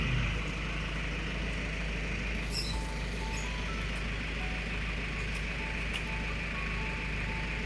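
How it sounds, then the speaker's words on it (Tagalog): A smoky truck engine idles steadily nearby with a constant low rumble throughout, a few faint beeping tones rising over it. "Mausok itong truck ni Maring Claring"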